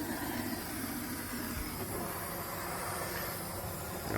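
A heat gun blows on the steel body of a Valiant car under restoration, a steady, low-level whooshing hiss with a faint rumble, continuous and unbroken.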